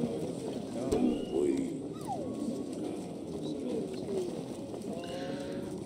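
A pigeon coos softly in the game Valiant Hearts, low repeated calls set against ambient game sounds, while someone talks over them.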